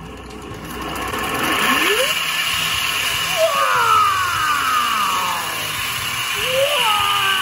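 A 2012 eBike's electric motor runs as its throttle is spun, giving a steady motor hum with rising and falling whining pitch sweeps that track each twist of the throttle, fairly loud and close with no talk over it.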